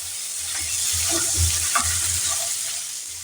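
Chickpeas and potatoes in a low-oil pan are turned with a utensil, and scraping, clattering strokes rise over a continuous frying sizzle without any voice.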